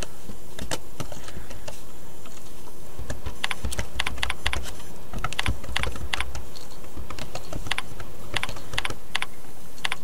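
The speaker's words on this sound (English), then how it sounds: "first type in your name and title into the signature box" Continuous typing on a computer keyboard while entering a name and title into a signature box, with brisk irregular key clicks running throughout and no talk.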